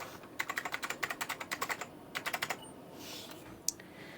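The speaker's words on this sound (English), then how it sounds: "you just type the cheat codes in" Cheat codes being typed on a computer keyboard of a Windows 98 Shuttle SB61G2 PC: two quick bursts of crisp, evenly spaced key clicks, close and clear, followed by a short pause and a single sharper keystroke.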